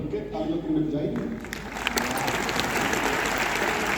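Audience applause fills the room at a talk by an Indian Air Force NCC officer, rising into steady, dense clapping that continues loudly through the second half while a voice is heard over it.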